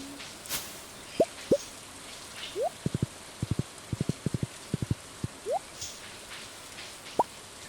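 Rain in the farming video game Stardew Valley falls as a soft hiss dotted with distinct plinking droplets, some landing in quick clusters, fairly quiet and alone.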